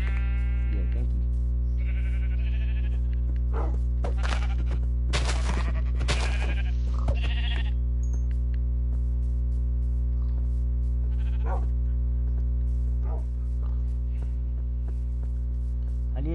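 Sheep bleat in a video game, several short nasal bleats over a steady loud electrical hum, with occasional faint clicks.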